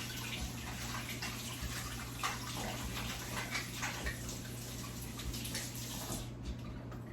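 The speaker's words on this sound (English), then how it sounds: "I go ahead and wash my lid" Canning jar lids get washed in a basin of water, with soft splashing, sloshing and trickling that swells in small irregular surges, close by and fairly quiet, no speech.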